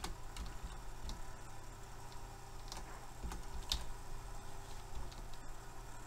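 Computer keyboard arrow keys are pressed in a few sparse, faint clicks spaced irregularly against a quiet room hum.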